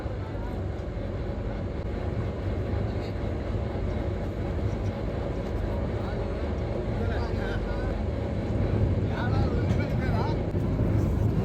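A river ferry (ballakattu) crossing the Krishna River hums with a constant low engine rumble and wash, steady throughout while people talk over it.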